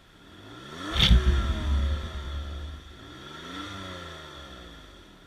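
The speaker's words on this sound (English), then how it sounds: "let's check out the revs on this piece." A 2009 Toyota RAV4 Sport with a V6 engine is revved once sharply, rising to a loud peak and settling into a lower hum, then picking up a second, milder rev near the end, with no talking.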